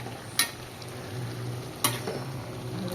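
Chunks of bottle gourd are stirred in a little hot oil in a pan, producing a soft steady sizzle broken by two sharp scraping stirs.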